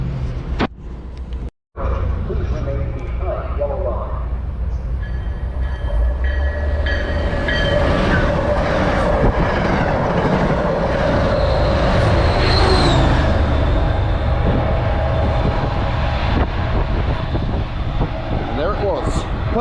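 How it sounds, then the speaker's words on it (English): A non-stop train rumbles through Readville Station at a steady roar, loud and close for most of the clip, with a brief sharp dropout near the start. "There's a train approaching, so go on, let's head down."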